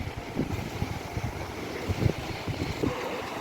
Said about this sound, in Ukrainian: А вітер сьогодні сильний, сильний і холодний, ви чуєте?